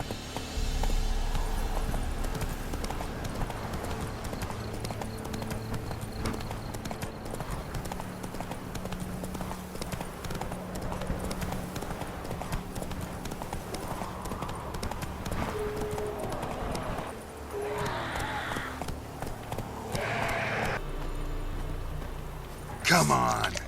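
Roach the horse gallops in The Witcher 3, with steady rapid hoofbeats running throughout at close range under game ambience, a rider's voice speaking over the rhythm.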